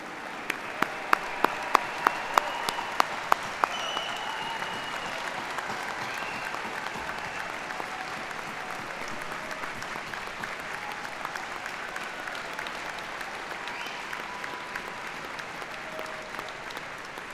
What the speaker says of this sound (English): Would all of the 2018 medalists please stand for a moment so we can applaud and congratulate all of you.